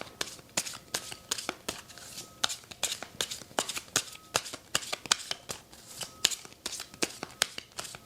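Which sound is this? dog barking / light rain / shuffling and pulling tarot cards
shuffling and pulling tarot cards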